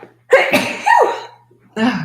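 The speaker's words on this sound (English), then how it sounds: "I'm gonna sneeze." A single loud, close sneeze bursts out after a quick sharp intake of breath, trailing into a brief vocal exhale before a short voice comes in.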